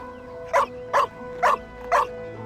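A dog in the Genshin Impact video game gives four evenly spaced barks, each short and sharp, over a faint hum of background music and ambience.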